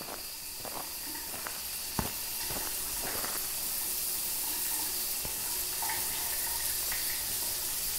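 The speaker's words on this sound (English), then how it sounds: "it must be the ghost room because it's taking a shower now" In the Phasmophobia video game, a ghost runs a shower at Camp Maple Lodge, giving a steady hiss of running water with scattered faint knocks and thumps underneath.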